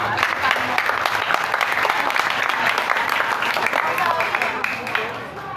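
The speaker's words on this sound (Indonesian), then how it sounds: "Untuk itu tepuk tangan dulu untuk Karang" Audience applause at a community religious gathering for a village youth organisation, a continuous crowd clapping that holds steady for several seconds, fairly close and full.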